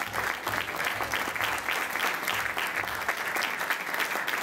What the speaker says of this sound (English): Please, a wonderful, wonderful round of applause, Mr. Tata Taka Udo.